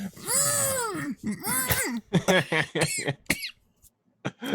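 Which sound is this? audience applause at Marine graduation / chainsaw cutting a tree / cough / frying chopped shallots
cough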